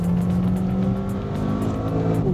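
Renault Sport car engine running close by in a steady, even drone, its pitch dipping slightly near the end as a paddle gear shift is made, with no talk.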